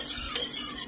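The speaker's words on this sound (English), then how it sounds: "let it under low heat cook the yogurt" Yogurt cooking over low heat for laban emmo, stirred with a spoon: a brief close scrape and soft bubbling sizzle, continuous and fairly loud, with no speech.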